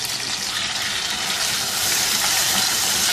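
Mutton and yogurt sizzle steadily in a karahi for a mutton masala dish, a continuous loud hiss and crackle of frying without any voices.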